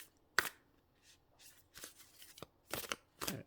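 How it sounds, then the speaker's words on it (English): Tarot cards are drawn and flicked from a deck in a handful of crisp, separate snaps and slides, close and fairly quiet, with short pauses between them. "Just going to draw some cards for you"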